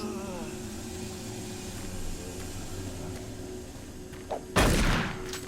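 A single loud burst of gunfire from the game Doom 3 lands near the end, a sharp blast with a short ringing tail, heard over low droning game ambience and a faint earlier click.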